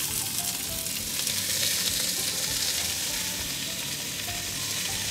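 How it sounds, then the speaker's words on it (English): Beef sears in batches in an enamel cast iron pot on an ASKO induction cooktop, a loud, even, continuous sizzle heard close up with no talking. "I want to sear the beef in batches so I don't overcrowd the pot."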